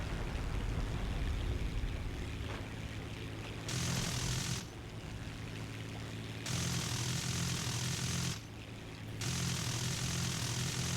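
Propeller drone of a Catalina flying boat in War Thunder, a steady loud engine roar with several surges that rise and fall over the clip, no voices.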